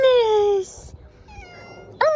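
A cat meows close by, a drawn-out falling cry followed by a softer, shorter meow and a brief sharp call at the end, with faint background noise between.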